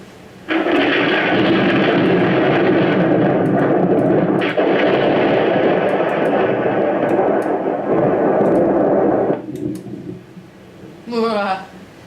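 A lightning-and-thunder scare effect triggered on a PicoFX prop controller: a sudden loud rumbling roar that holds for about nine seconds with crackling bursts, then cuts off, followed by a voice.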